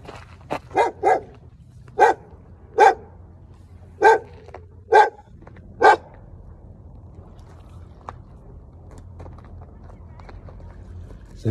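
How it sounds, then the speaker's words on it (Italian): A dog barks in a run of about eight sharp, loud barks over the first six seconds, some in quick pairs, then falls quiet over a low steady background hum. "c'è il cane che può scendere a mangiarmi."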